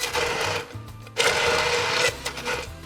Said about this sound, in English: get the nuts, the cheese, the garlic, and the oil all blended up first